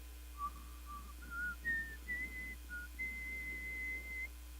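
Someone whistles a slow, simple tune of several held notes, rising in pitch, alone over a faint steady hum.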